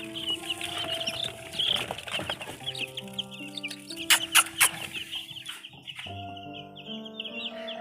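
Young crossbred chicks kept in a box cheep in a busy overlapping chorus of high peeps, close and fairly loud, with a few sharper bursts in the middle.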